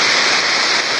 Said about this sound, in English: Oh, there's a little leak.